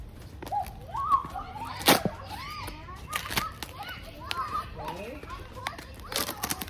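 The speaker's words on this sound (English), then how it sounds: "We got some kids playing in the backyard next door, so that's where all the noise is coming from." Children play in a neighbouring backyard, their shrieks, shouts and chatter carrying from a distance along with a few sharp thuds and claps, moderately faint.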